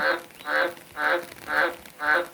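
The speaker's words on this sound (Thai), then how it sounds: "กบก็พากันร้อง" A frog croaks five times in a steady rhythm during rain, each call a loud, buzzy burst about half a second apart, close by with faint background noise.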